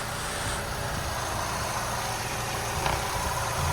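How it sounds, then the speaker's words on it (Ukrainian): A 1.6 MPI Volkswagen Golf 5 engine idles steadily with a constant low rumble and faint vibration, close by, with no voices. "робота двигуна"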